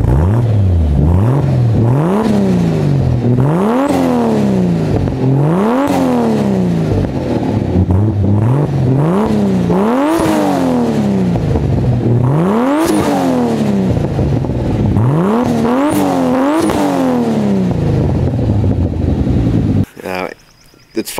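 A modified car exhaust revs again and again in loud, close throttle blips that rise and fall in quick repeated bursts, then cuts off near the end.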